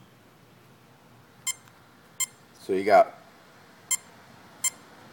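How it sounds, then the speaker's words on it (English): A Mamba ESC gives short, sharp programming beeps, spaced a second or so apart, with a voice speaking briefly in the middle. "one beep, one beep"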